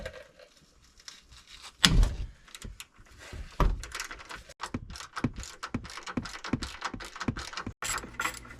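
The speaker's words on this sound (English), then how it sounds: "and then we'll go ahead and remove these bolts" Wrench or ratchet loosening the 12 mm sway bar bushing bolts on a 2013 Subaru Outback after penetrating oil is sprayed, heard as close, irregular metallic clicks, ratcheting bursts and clunks with a few louder knocks.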